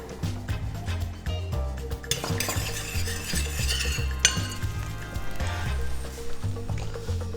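A squab cream sauce is stirred in a pan to bind it, a spoon scraping and clinking steadily against the metal under continuous background music.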